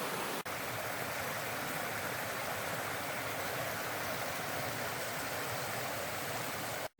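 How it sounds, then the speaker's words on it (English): Rocky Brook Falls, a waterfall fed by a small creek near Brinnon, Washington, gives a steady, full rushing roar of running water that holds constant throughout. "I'll also let you hear the beautiful sounds of running water"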